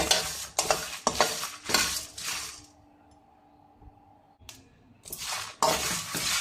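Pan-frying for Arabian chicken kabsa over high flame, with bursts of sizzle and stirring scrapes separated by a quieter pause, then renewed vigorous stirring and frying close up.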